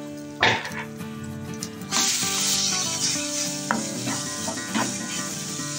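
Mashed potato filling for samosas and kachori is stirred and mixed with chaat masala and salt, giving soft scraping and a few sharp knocks over a low sizzling background, close and moderately loud.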